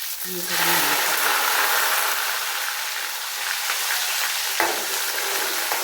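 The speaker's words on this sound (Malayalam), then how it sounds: "കടുകും ഉലുവ കറിവേപ്പിലയെല്ലാം ഇട്ട് കൊടുക്കും" Mustard seeds, fenugreek and curry leaves sizzle loudly in hot oil, a dense, steady crackling hiss that bursts in after a brief moment and continues unbroken, close and alone.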